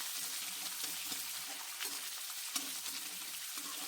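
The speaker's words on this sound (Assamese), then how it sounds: "পিঁয়াজখিনি ৰঙচুৱাকৈ ভাজি ল'ম" Onions fry with two bay leaves in a little oil in a wok, making a loud, steady sizzle with intermittent stirring right up close, with no voices.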